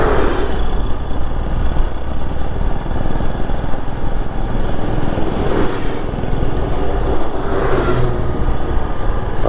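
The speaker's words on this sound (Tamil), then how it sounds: "ஆர்மி வெஹிக்கிள் வருது பாருங்கள்." Army vehicles carrying generators roll past in a convoy on a road to Ladakh, a loud steady engine rumble with passing swells as each vehicle goes by.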